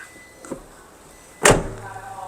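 The open-cab door of a Toyota Revo pickup is opened: a faint click early, then a sharp, loud latch clunk and door swing near the middle, followed by a low lingering rumble.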